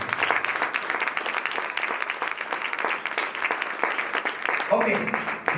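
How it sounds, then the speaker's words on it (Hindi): Audience clapping at a Christian sermon, a steady, dense patter that holds for several seconds, with a preacher's voice speaking over the applause. "तालियां बजा रहे"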